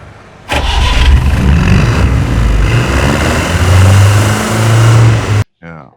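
An Ambassador car engine starts and settles into a loud, steady idle with low rumbling throb for about five seconds, then cuts off abruptly before a brief voice.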